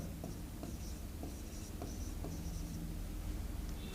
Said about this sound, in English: I will write all the results now.